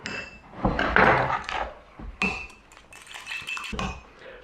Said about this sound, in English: I'm just going to crack this egg into the cup and give it a quick whisk.